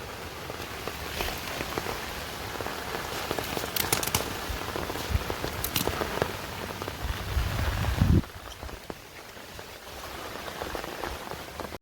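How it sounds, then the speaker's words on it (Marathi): Heavy monsoon rain in rural Konkan farmland patters steadily on surfaces with scattered sharper drops, then the downpour suddenly quiets to a softer hiss near the end. "जोरदार पाऊस चालू आहे"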